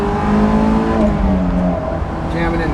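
A Honda S2000 engine pulls hard in third gear from inside the car, a loud, steady rising drone with layered harmonic tones, and a voice talks over it.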